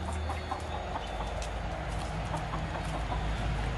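A hen with her chicks at a countryside inn, soft clucking and scattered peeping over a low steady rumble, faint and somewhat distant, with no talking.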